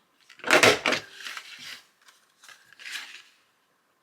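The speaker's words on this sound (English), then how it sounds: "I am going to just punch the sides." A loud mechanical crunch of a hole punch biting through journal paper, followed by a softer second press and a release, then quiet.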